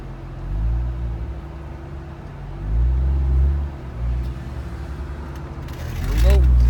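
Road traffic rumbles past in a steady low drone, swelling as vehicles pass close by, with a louder pass near the end.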